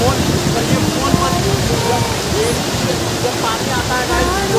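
Sanam Falls sends up a constant, dense roar of falling water that fills the whole clip, with a person talking faintly beneath the rushing noise.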